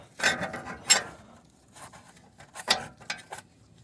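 A wrench tightening an O2 sensor on a Mercedes GLK 350 4Matic M272 engine, a few short ratcheting, scraping bursts with pauses between, close and fairly quiet.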